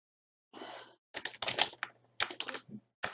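Typing on a computer keyboard while writing Python game code: close, quick clusters of key clicks in short bursts separated by brief pauses.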